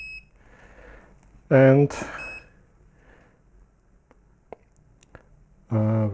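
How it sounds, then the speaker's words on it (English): A portable oscilloscope's menu beeper sounds two short, loud buzzy beeps several seconds apart, with quiet button clicks between them and a voice speaking briefly at the start. "the first menu item I changed was this beeper here, because per default it's on"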